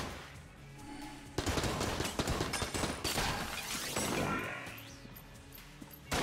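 Heavy video game gunfire and impact crashes in Enter the Gungeon, a dense loud barrage starting after a quieter opening and continuing with overlapping blasts and electronic effects.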